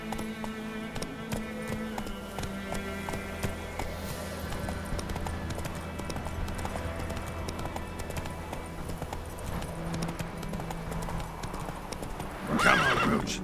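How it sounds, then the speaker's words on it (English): In the video game Witcher 3, a horse gallops with loud, rapid hoofbeats throughout and lets out a whinny near the end, with no speech. "Come on, Roach."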